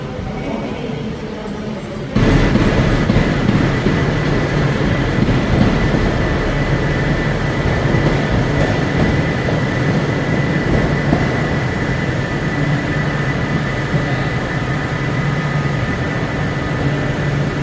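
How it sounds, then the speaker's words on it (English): A train rolls through a platform at Manchester Piccadilly station, a loud, steady rumble with a humming tone that starts abruptly and continues without letup. "Train."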